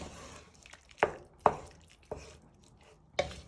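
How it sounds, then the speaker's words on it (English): A spoon stirs cream cheese into a creamy Tuscan chicken sauce in a pan, with a few sharp close knocks against the pan over soft, thick squelching and no talk. "And then you want to proper stir it all in."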